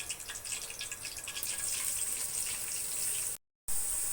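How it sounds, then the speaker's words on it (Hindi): Onions go into hot ghee for a beef kofta curry and fry with a bright, continuous sizzling hiss close to the pan. There is a brief cut to silence just before the end. "घी गर्म हो गया तो हम इसमें प्याज डालेंगे,"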